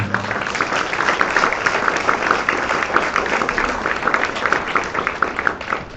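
A church congregation applauding, a dense and steady wash of many hands clapping together that holds at a strong level throughout with no talk over it.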